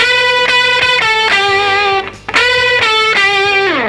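Distorted electric guitar unison bend lead, sustained and loud, with the pitch sliding up into held notes and a brief dip in the middle.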